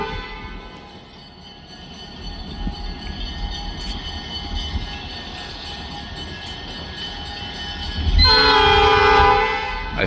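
Train 501 rumbles steadily along the tracks with a continuous low rolling noise, then a loud, sustained multi-tone horn blast sounds near the end, close by.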